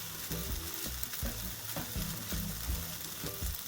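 Steady, close sizzling of thin pancakes frying in a hot pan, with a constant crackling hiss and a few soft scraping taps.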